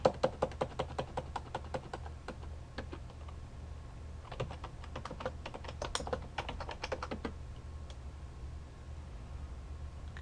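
A computer keyboard is typed on during router configuration, with bursts of quick, close key clicks in uneven rhythm, a short pause midway, then more clattering keystrokes over a faint background hum.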